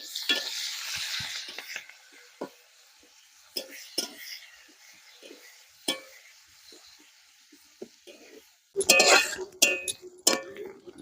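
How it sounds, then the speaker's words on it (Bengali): Sliced onions and slit green chillies fry in hot oil for a village-style sea crab curry, with a soft sizzle and scattered scrapes of a stirring spoon against the pan, then a louder burst of sizzling and clatter near the end. "পেঁয়াজটা ভালো করে ভেজে নিতে হবে তেলে ফেলে।"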